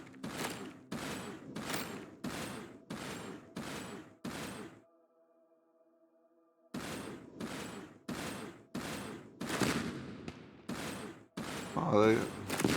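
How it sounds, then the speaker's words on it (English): Ship cannon fire at floating containers in the space game Starcom: Unknown Space, a rapid, even series of loud booming shots, then a pause with a soft humming tone, then more volleys that grow heavier toward the end. "We can destroy containers with our cannon"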